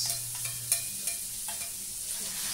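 Onion fries in a pan for a chicken curry, a quiet, steady sizzle with occasional light clicks of a spoon, heard close and without talk.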